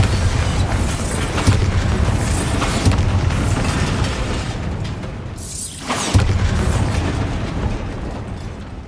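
Repeated Bombarda spell explosions in Hogwarts Legacy blast in a dense, loud game mix, with booming low rumbles and crackling bursts layered over continuous action sounds and music.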